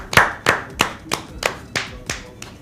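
Slow, sparse golf clap from one person at a Wii golf tournament, about eight single claps evenly spaced and close, with no talk over them.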